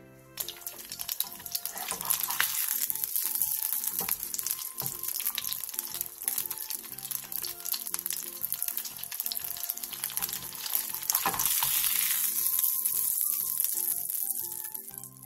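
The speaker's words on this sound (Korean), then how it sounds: "팬에 기름을 두른 뒤 슬라이스 햄을 올려 중약불에서 앞뒤로 노릇노릇하게 붙여주세요." Sliced ham coated in beaten egg sizzles in oil in a pan over medium-low heat, a dense, continuous crackling hiss that runs the full length with brief dips.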